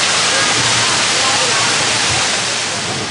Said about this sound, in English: Oh, these waterfalls are great.